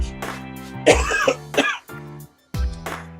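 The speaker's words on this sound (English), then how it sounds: "That's a summer jam cough." A few harsh throat-clearing coughs in quick succession, close and fairly loud, with short pauses between bursts.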